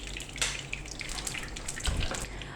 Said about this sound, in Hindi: इसमें हम शामिल करेंगे 4 टेबल स्पून ऑयल